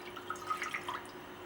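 Water runs into a cooking pot for potato stock, a light, close trickle with small drips and splashes for just over a second, with no speech.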